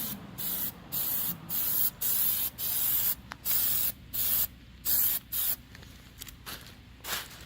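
A spray can or gun hisses in repeated close bursts as grills get a light first coat, with roughly a dozen evenly spaced sprays over a constant background hiss and no voices.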